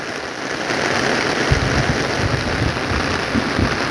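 Heavy rain pours outdoors in Jamaica as a dense, loud, continuous hiss, with low rumbling beneath from around the middle onward and no voices.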